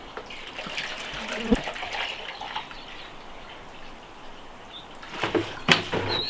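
Water is poured into a basin to dissolve salt while making cracked olives, with a soft trickling and splashing stream that swells near the end, close up with quiet background.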